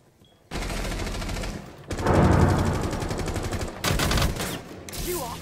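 Rapid automatic gunfire from the Rainbow Six Siege video game rattles in several loud bursts separated by brief gaps, close and dominant.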